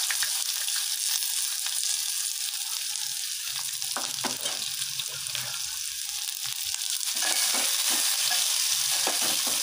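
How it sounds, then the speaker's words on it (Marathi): Finely chopped onion fries in a pan for a jackfruit dish, giving a steady, close, bright sizzle throughout with occasional stirring scrapes and no talk. "आता मी त्यात घालत आहे हा बारीक चिरलेला कांदा"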